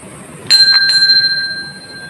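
A bell serving as a doorbell rings close and loud: two quick strikes, then a bright sustained tone that slowly fades, with no talking.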